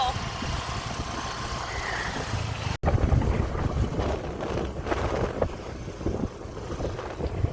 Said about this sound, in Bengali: দেখো ওয়েদারটা কি ভালো, ঠান্ডা হাওয়া হাওয়া হাওয়া হাওয়া হাওয়া